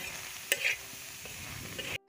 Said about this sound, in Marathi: तवा तापलाय, त्याच्यावर टाकून घेतली.